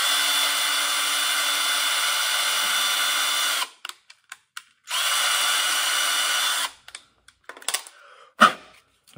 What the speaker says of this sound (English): you get out your drill and you drill a hole in it